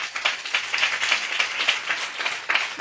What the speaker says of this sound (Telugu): హల్లెలూయా, చప్పట్లు కొట్టు.